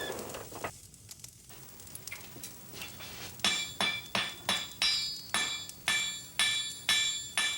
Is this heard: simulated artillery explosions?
no